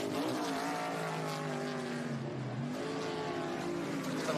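Trans Am race cars running nearly four wide toward the line at Laguna Seca, several engines blending into a loud, sustained roar with layered pitches rising and dipping as the pack approaches and passes.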